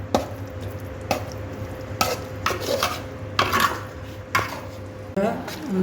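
A spoon scrapes and clatters against a tawa as pav bhaji vegetable mix is stirred into rice with lemon for tawa pulao, with sharp, irregular strokes roughly once a second over a low background hum.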